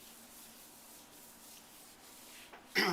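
A gloved hand rubs sealer across a granite countertop, giving a soft, steady, faint swishing friction. It ends with a brief louder scuff.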